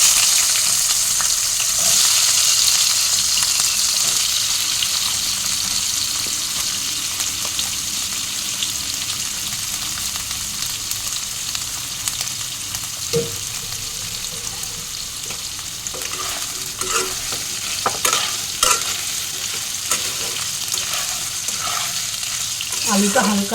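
Potato pieces frying in a pan with oil, a steady broadband sizzle throughout with occasional stirring scrapes and clatters toward the end, close and fairly loud, no voices.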